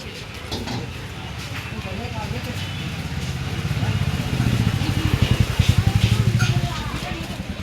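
Bikers' motorcycles pass on a jungle road near Chakrata, Dehradun. Their rumbling engines swell and grow louder toward the end, with steady traffic noise throughout.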